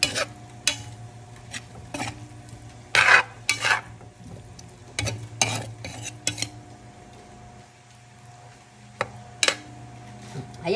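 Bitter gourd with pork and egg being sautéed in a pan, with a low steady sizzle under repeated sharp clanks and scrapes of a metal spatula against the pan, coming in bursts with quieter pauses between.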